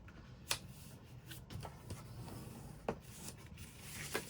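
Quiet papercraft handling while a money envelope is folded: soft rustles and a few crisp creases and taps, close and faint, with no voices.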